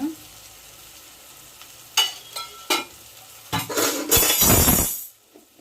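Chili powder stirred and fried in a pan, quiet at first, then a few scraping clinks of a utensil before a loud, close hiss of sizzling that swells and then stops abruptly.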